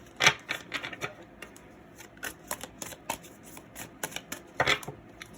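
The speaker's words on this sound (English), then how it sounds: "So we're just going to quickly shuffle." Tarot cards being shuffled by hand in a quick run of crisp riffles and flicks, each burst short and sharp, with louder snaps at the start and near the end, close up and with no voices.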